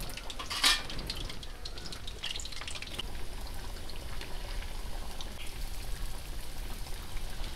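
Palmyra palm fruit fritters (taati garelu) frying in hot oil, a dense, steady crackle and sizzle held close and constant, with a brief clink of utensils near the start and no speech.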